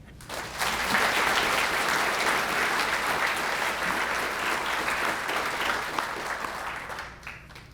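Sustained applause fills a hall at the 2019 4-H Hall of Fame ceremony, a dense, even wash of clapping that starts after a brief lull and fades near the end.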